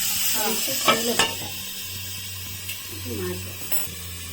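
Onion pieces and green chillies sautéing in a pan for a prawn and egg curry, with a steady low sizzle and a few brief clinks of a spoon or lid against the pot.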